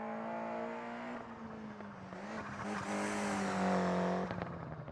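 A Ford Escort Cosworth rally car in the video game Dirt Rally 2 revs its engine in a close, continuous drone that climbs and falls in pitch as it accelerates through a stage.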